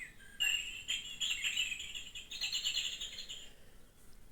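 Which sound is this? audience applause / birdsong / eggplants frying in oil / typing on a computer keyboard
birdsong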